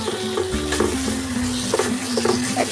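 Spice masala for an egg and potato curry fries in released oil, a close sizzle with repeated scraping stirs of a spatula against the pan. No one speaks.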